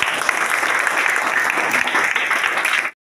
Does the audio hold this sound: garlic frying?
no